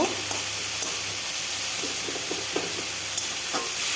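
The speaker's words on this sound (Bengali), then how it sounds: "ভালোভাবে ভাজতে হবে মশলার কাঁচা গন্ধ যেন চলে যায়" Spice paste frying in a pan for a Bengali tangra fish curry with ridge gourd and potato, a steady close sizzle with soft scraping stir strokes throughout, no talking.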